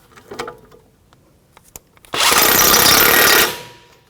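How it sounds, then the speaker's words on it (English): Power tool with a 21mm socket snugging strut mounting bolts on a 2007-2017 Jeep Patriot 2.4L, one loud, close burst of rattling whir lasting over a second, after a few light metallic clicks and handling noises. "We're going to tighten up our strut mounting bolts."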